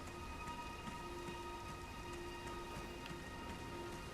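Continuous soft rain in Elden Ring, an even hiss of falling drops with faint steady tones beneath, quiet and unbroken, no voices.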